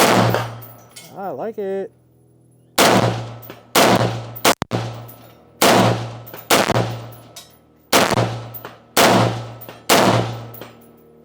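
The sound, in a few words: gunshots from a gun with an upgraded Rize Armament trigger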